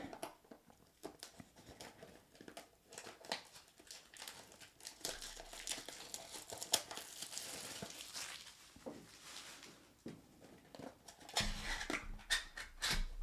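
Foil wrappers of Pokemon card packs crinkle and tear in bursts close by, with soft rustling throughout and a dog faintly panting in the background.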